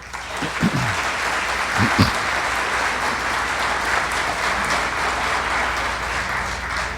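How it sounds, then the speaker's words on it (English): An audience at a Teacher of the Year gala applauds the honorees, a broad, steady wave of clapping lasting several seconds with a couple of brief voice sounds early on. "Let's give our honorees their first round of applause tonight."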